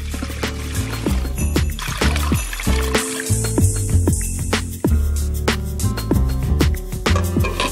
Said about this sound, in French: Versez de l'eau jusqu'à ce que les bocaux soient entièrement recouverts.